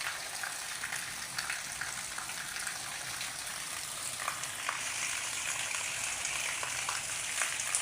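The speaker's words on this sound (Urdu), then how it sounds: "تو اب صبح سے پھر بارش ہو رہی ہے، تو ماشاءاللہ ابر رحمت برس رہی ہے" Heavy monsoon rain pours down steadily in Pakistan, a dense, continuous hissing roar with water gushing and splashing, unbroken for the whole stretch and without any voices.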